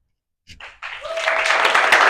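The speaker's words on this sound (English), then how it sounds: "Yeah, round of applause." After a moment of silence and a few scattered first claps, applause from the audience at a club's annual meeting swells quickly into steady, full clapping for the board.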